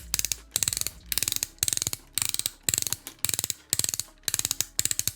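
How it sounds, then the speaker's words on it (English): Ratcheted wings on a Transformers Dark of the Moon Jetwing Optimus Prime toy being flared out, producing loud, close plastic clicking in quick regular bursts of several clicks each, repeated steadily throughout. "you mount the guns under the arms and then flare out the nice ratcheted wings"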